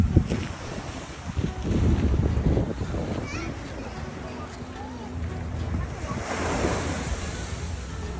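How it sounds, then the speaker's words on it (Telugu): Surf rolls onto a Honolulu beach at sunrise, with steady wind buffeting the microphone, a heavier wave rumble early on and a continuous roar after it. "సన్ రైజ్ టైంలో బీచ్కి వచ్చి చల్లగా గాలి వీస్తుంటే అక్కడ కూర్చొని ఎంజాయ్ చేస్తుంటే ప్రశాంతంగా ఉంటుంది."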